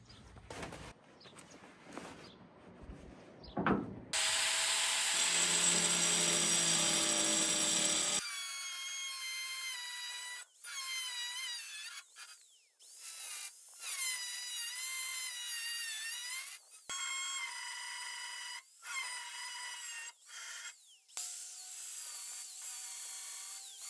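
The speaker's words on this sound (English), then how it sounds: "We got the studs grinded off" An angle grinder whines loudly against metal in repeated bursts, grinding studs off a 1957 Chevrolet car body, pitch shifting as it bites, with short pauses between passes.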